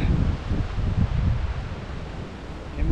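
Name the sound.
wind gusts at canal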